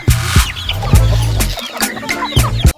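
Hens and a rooster wandering with chicks cluck in short, repeated bursts close by, with several sharp broadband calls spaced through the brief stretch and no talking over them.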